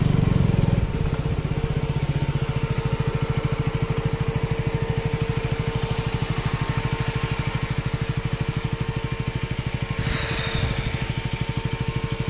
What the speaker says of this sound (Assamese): ইয়াতে আমি বাইকখন থ'ম এতিয়া।